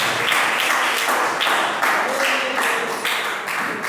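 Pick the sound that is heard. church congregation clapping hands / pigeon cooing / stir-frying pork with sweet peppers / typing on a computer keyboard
church congregation clapping hands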